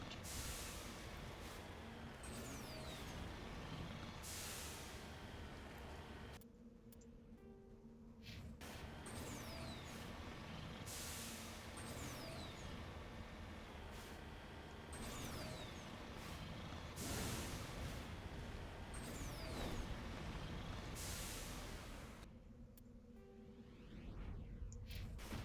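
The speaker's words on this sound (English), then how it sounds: "Just me driving the Mako around." Mako armored vehicle driving in the game Mass Effect, a steady rumbling engine drone with hissing, whooshing bursts and a couple of brief quieter dips, running continuously without voices.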